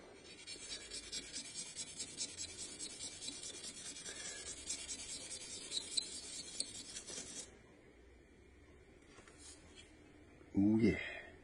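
Fine 1000-grit sandpaper rubs in quick strokes on a small part for a homemade laser holographic sight, a soft, close scratchy rasp that stops partway, followed by quiet and a brief voice at the end.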